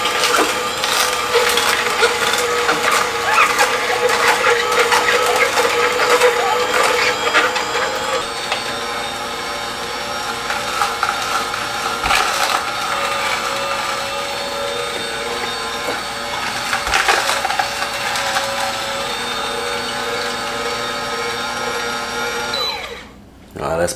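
A juicer grinds and crushes celery with a loud, continuous mechanical whir and crackle, close and steady, with a sharp crunch now and then, before cutting off at the end.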